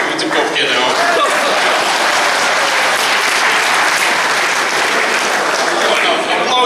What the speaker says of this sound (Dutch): Nou, applaus